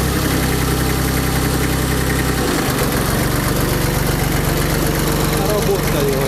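An engine is cranked and catches, then settles into a steady, loud, rumbling idle with a knocking pulse, close by.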